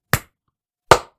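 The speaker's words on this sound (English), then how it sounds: "So we're going to clap." Two sharp, dry hand claps, close and loud, about three-quarters of a second apart, each decaying quickly into silence.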